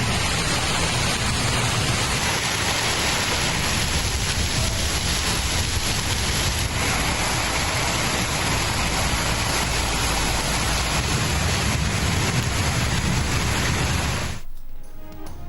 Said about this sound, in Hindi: मुल्क के मुख्तलिफ हिस्सों में बारिश।